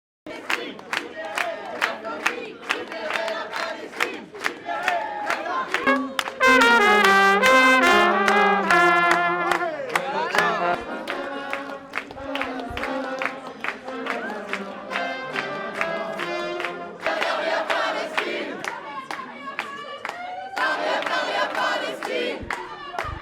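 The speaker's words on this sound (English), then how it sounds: "The crowd listening at Orly fell momentarily silent at his words before breaking into applause." A crowd at Orly airport cheering, chanting and clapping, with rhythmic applause and raised voices swelling loudly and then continuing in bursts of shouting.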